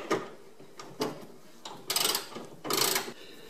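A ratchet wrench loosens the bolts on a car battery bracket, sounding in several short clicking bursts with pauses between, close and fairly loud.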